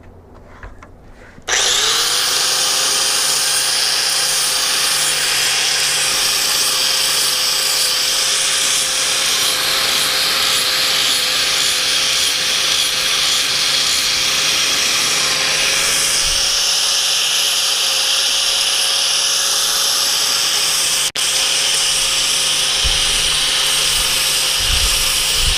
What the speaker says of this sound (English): I'm gonna bevel the edge a bit.